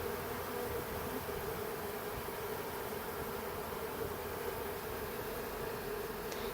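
A dense, steady hum of a honeybee swarm moving into an empty box, continuous and fairly close, with no voices over it.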